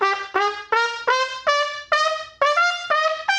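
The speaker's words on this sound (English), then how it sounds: "you're going to hit the center of the pitch and then go up, almost getting sharp." Jazz trumpet playing a run of short detached notes, each striking the pitch then bending upward slightly sharp, about eight bright punchy notes in quick rhythm, solo and close.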